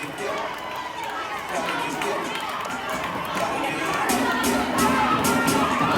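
A large indoor wrestling crowd at the LM Lockhart roars and cheers continuously, the noise swelling louder toward the end, with voices shouting throughout.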